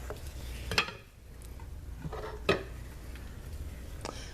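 A spoon scrapes and clinks against a soap-making pot of goat's milk soap scented with lemongrass and lavender oils. Three separate sharp scrapes land among quieter rustling, close by, with no talk.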